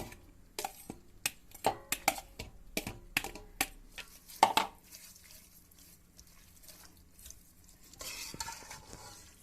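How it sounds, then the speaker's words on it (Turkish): Peppers and carrots are stirred into pasta sauce in a pan. A quick run of sharp utensil clacks against the pan gives way to softer scraping and a low sizzle. "iyice karıştırıyoruz. Daha sonra biberlerimizi ve havuçlarımızı ekliyoruz."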